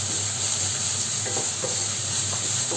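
Jaggery melts into a rice flour mixture for kozhukkatta in a pan on a gas stove, giving a steady close sizzle with soft scraping stir strokes and no talk.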